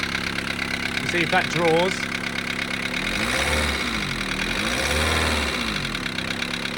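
A Morris Minor car engine revs up and settles back repeatedly, its low rumble rising and falling beneath someone talking nearby.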